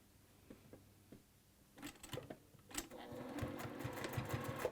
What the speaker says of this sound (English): So continue sewing on your binding